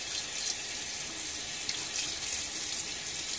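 Running water from a tap rinsing a safety razor after a wet shave, a steady soft hiss of flowing water at moderate distance.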